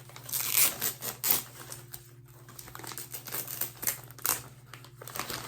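Tape and wrapping come off a mailed Hoya plant package up close, with continuous crinkling, rustling and small tearing sounds in uneven bursts.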